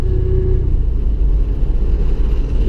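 A supercharged 4.0 Ford Mustang fitted with an Xcharger pulls on a lap, its engine a loud, close, continuous low rumble with a steady droning tone and no voices over it.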